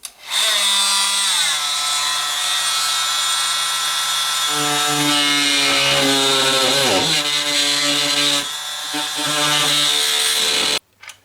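A power tool cuts into an existing interior wall near a stud, its loud whining motor holding a steady pitch with shifting tones as the blade bites, then stopping abruptly near the end.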